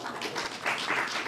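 A conference audience at an investment forum in Newark claps steadily and fairly close, a brief dense round of applause with no voices over it.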